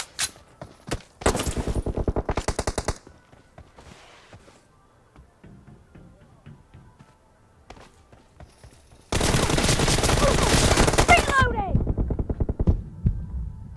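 Rapid automatic gunfire in PUBG, two long bursts of fast repeated shots, the first short and the second sustained near the end, with scattered single shots and footsteps in the quieter stretch between.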